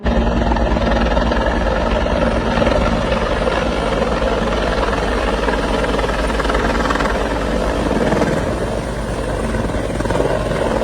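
A helicopter roars steadily at the Kedarnath helipad, a loud, close, continuous rotor and engine drone with no voices over it.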